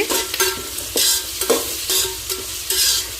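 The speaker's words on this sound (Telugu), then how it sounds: "బిర్యానీ తాలింపు వేస్తున్నాను" Tempering spices fry in hot oil for a vegetable biryani, giving a loud, close sizzle that swells in repeated bursts as the pan is stirred, with no voices.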